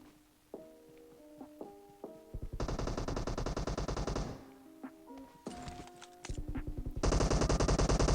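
Gunfire from PUBG Mobile gameplay on the Sanhok map: scattered single shots and clicks, then sustained loud automatic bursts of rapid fire, alternating with short pauses.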